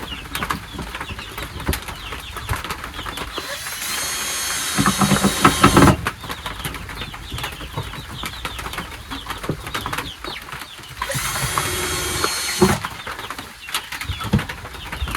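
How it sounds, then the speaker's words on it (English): Rain patters on a chicken coop roof in bursts that swell and fade while small chicks chirp intermittently nearby. "the rain on top and the chirping of the chicks around"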